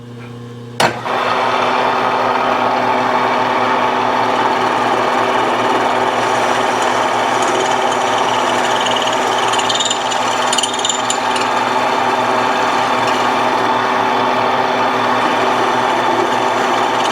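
A power drill starts abruptly after a short click and runs steadily at high speed drilling a 9/16-inch hole for a 14 mm Heli-Coil on a Yamaha AT-1MX, loud and close, with a constant whirring hum.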